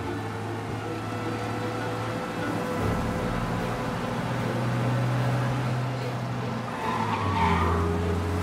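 A car in Mafia: Definitive Edition driving fast, with a steady engine drone and long tire squeals and skids that rise and fall across the stretch and grow louder toward the end.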